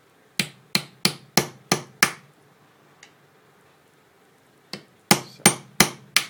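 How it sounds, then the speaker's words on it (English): Sharp metallic hammer blows strike a punch to seat a Ford Transit starter motor drive part, six quick taps, a pause, then five more, close and loud in a quiet workshop. "get your punch, and then just punch it down so it securely fits"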